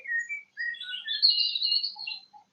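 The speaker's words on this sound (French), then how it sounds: "Je vais mettre la même chose, les petits oiseaux." Recorded small birds chirping as background for a pilates session, bright high tweets and short whistled phrases in quick succession, clear and alone with no talk.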